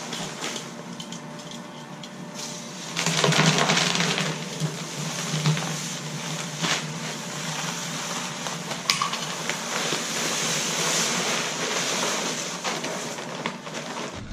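A bag being cut open and its contents, presumably a dry mix for stone crab traps, emptied into a bucket: scraping and a long, coarse pouring rush that swells partway through and continues steadily, close by, with no voices.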